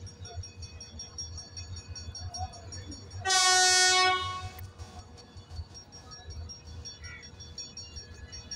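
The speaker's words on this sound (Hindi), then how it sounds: "eleven of Hazara express Karachi cantt के प्लेटफार्म नंबर 2 पे आ रही है अपनी इंटीमेशन बेल देते हुए" The 11 Up Hazara Express passenger train, hauled by an EMD locomotive, pulls into platform 2 at Karachi Cantt station. Its horn gives one loud, sustained blast of about a second over the low rumble of the arriving train.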